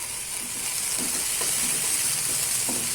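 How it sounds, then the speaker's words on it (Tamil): Chopped onions and tomatoes frying in a pan for a village-style broad bean stir-fry, giving a steady, even hiss with faint crackles, close and without voices. "இது 2 நிமிஷம் வதங்கட்டும்."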